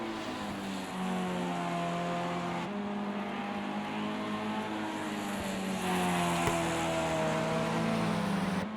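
Formula Ford race cars lap a circuit in a racing video game, engines droning and rising in pitch as several cars run together, loud and continuous with shifting harmonic tones.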